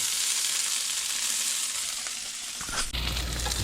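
Fiddleheads and morels fry in butter in a pan, a steady close sizzle with bright crackle that shifts near the end as the pan is stirred or moved, then a brief clatter and lower rumble.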